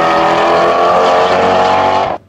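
A Ford Mustang Shelby V8 roars loudly on a track during passenger rides at a Ford event, a sustained, intense engine note that cuts off abruptly near the end.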